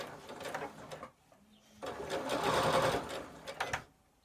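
A Butterick EB6100 sewing machine stitches a coin purse seam in two bursts of steady, close mechanical whirring with a short pause between them.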